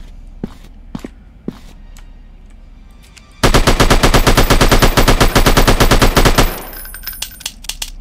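Video game zombie shooter gunfire: a few scattered single shots, then a sustained loud burst of rapid automatic fire lasting about three seconds before fading to quiet ambience.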